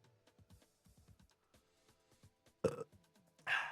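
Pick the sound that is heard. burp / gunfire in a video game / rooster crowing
burp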